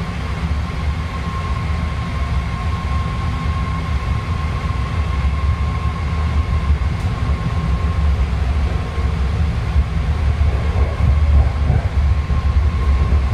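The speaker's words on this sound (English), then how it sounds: "This is a yellow line train to Antioch." A BART yellow line train bound for Antioch from San Francisco International Airport runs steadily, a loud continuous rumble and rail roar with a faint whine, heard from inside the car without talk.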